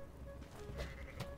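A goat in Goat Simulator bleats in a short, wavering cry, fairly close and moderately loud over a busy game background.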